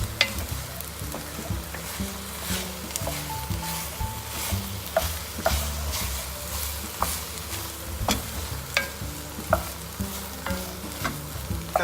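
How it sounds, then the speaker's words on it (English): Garlic is stirred into a pan while making beef and Guinness pie: repeated scraping and clicking utensil strokes over a low sizzle, close and fairly quiet, with no talk. "so give that a good stir in"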